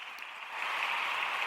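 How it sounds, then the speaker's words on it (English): A stadium crowd at a women's sports event applauds, a dense soft wash of clapping that swells and holds steady, heard at a distance. "That deserves some claps."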